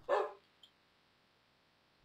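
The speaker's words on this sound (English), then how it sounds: "There's a puppy." A single short dog bark from a Minecraft game, sharp and fairly clear at the start, followed by a faint click and near silence.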